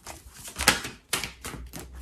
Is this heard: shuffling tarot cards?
yes